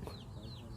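Farmyard chickens clucking softly at a distance, a short faint burst of fowl calls over a low rural background.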